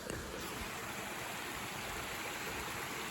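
Stream water flowing steadily at Rock Bridge Memorial State Park, a constant broad rushing wash, moderately loud and unbroken, with no talking.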